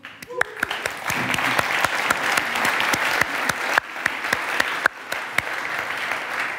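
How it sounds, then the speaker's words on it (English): A conference crowd at a JavaScript event claps in a loose, sustained round, sharp individual hand claps popping out above a steady bed of applause throughout. "give an applause to yourself because you're part of that community"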